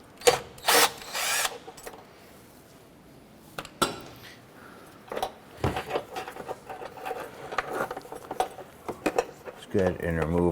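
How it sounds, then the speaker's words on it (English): Battery hold-down nuts on a 2008-2012 Honda Accord are loosened with a deep 10mm socket, giving scattered metallic clicks, ratcheting and clanks in bursts, with tool noises up close and intermittent quiet gaps. "Using a deep 10mm socket, we're going to get and loosen these nuts holding our battery hold-on J"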